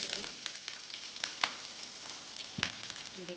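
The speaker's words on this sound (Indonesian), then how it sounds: "Tumis bawang bombay terlebih dahulu," Chopped onions sautéing in a little cooking oil in a frying pan, giving a steady soft sizzle with scattered crackles and pops, fairly faint and close, with no talking.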